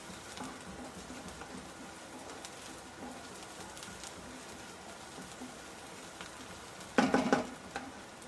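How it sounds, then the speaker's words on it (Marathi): Tomatoes frying with onion and green chilli in a pan for kanda poha, a soft steady sizzle with a louder burst of stirring clatter near the end. "तर हे टमाटर आता आपलं भाजून घेणार आहोत"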